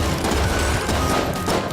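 Dense, continuous gunfire and bullet noise from Enter the Gungeon, a loud, packed barrage of overlapping shots with no clear gaps between them.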